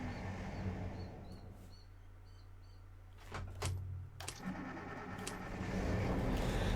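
Diesel engine of a Mercedes-Benz O303 coach in the OMSI 2 bus simulator starting up: clicks and short bursts, then a low steady idle rumble that settles in and grows slightly louder, with no talk.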